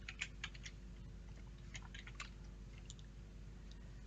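Soft, quick keystrokes on a computer keyboard as text is typed into a document, irregular clusters of light clicks heard faintly over a low steady hum, no talking.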